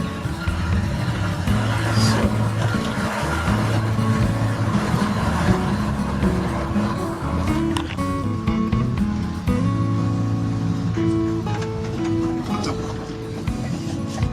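An old 1971 Ford F-250 pickup truck engine rumbles steadily throughout as it drives, a low continuous drone with some road and cabin noise, and voices faintly present.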